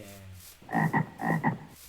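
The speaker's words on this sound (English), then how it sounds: "And they sound like this when they drop frog legs," Frog from the Quark mod in Minecraft croaks in two quick double-pulsed bursts, close and clear, following a brief spoken word.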